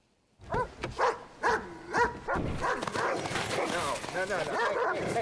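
Dogs bark and yip in short bursts in a scene from the film Knives Out, then blend into a busy mix of voices and commotion, with people talking throughout.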